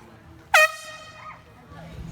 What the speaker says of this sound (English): It says stop honking the horn.